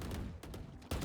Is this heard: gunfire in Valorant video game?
yes